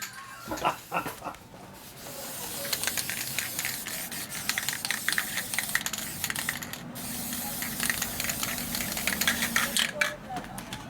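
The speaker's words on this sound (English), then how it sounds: "My powder coat gun." A powder coat spray gun hisses steadily as it coats a welded exhaust bracket for a 2000 Dyna FXDX, a continuous broadband spray lasting most of the clip with brief pauses and faint handling noises, close and fairly loud.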